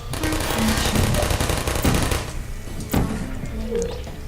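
Rapid automatic gunfire from Portal turrets in the video game, loud bursts of rattling shots that stop partway and resume briefly before trailing off, with no talk over it.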